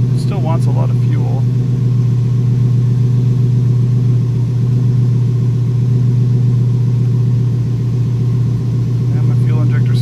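Subaru WRX/STI with an EJ257 engine on a dyno, running on speed density, producing a loud steady engine drone throughout with a low rumbling tone, close and continuous.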